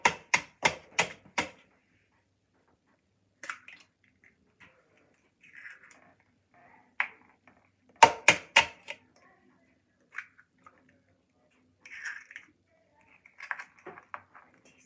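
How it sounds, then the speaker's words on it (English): Eggs cracked into muffin batter ingredients for pumpkin spice muffins: bursts of sharp, close taps and knocks, a quick run of four at the start and another cluster midway, with scattered softer clicks and rustles between. "right now we're gonna crack the eggs in and stuff"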